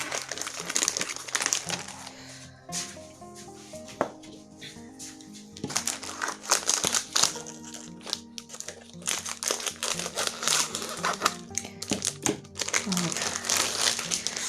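Plastic vacuum storage bags, about 60 by 80 cm, crinkle and rustle almost continuously, close up, while a voice talks over the handling.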